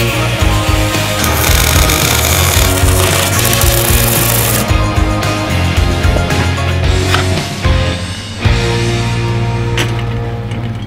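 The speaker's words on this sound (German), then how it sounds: "Deswegen schleifen wir jetzt unten die Tretlagerachse ein bisschen ab" A loud, continuous grinding of a bicycle bottom bracket axle, metal against a tool, harsh and steady, with the pitch shifting slightly as pressure changes.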